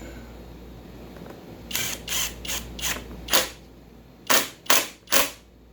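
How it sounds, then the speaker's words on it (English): Light tool taps on a McCulloch 10-10 chainsaw recoil starter give eight sharp, close metallic knocks in two quick groups over a quiet hiss. "Give her a couple light taps"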